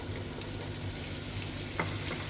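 Flour toasting in butter with roasted garlic cloves in a pot makes a steady soft sizzle and crackle, with a brief scrape of stirring near the end and no voices.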